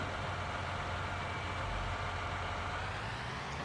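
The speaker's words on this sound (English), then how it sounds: "jump into our tractor here and see if we can" A tractor engine idles in the farming game Farming Simulator 19 on an alpine map, a steady low rumbling drone held evenly throughout with no speech.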